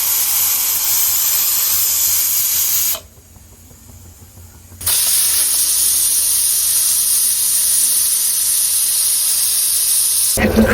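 Steady, loud steam hiss from a pressure cooker cooking beef polao, broken by a roughly two-second quieter dip before the forceful hiss resumes and continues to the end.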